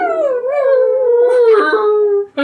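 A dog howls and whines up close, one long wavering wail that rises and falls before a brief break, loud and alone without talk.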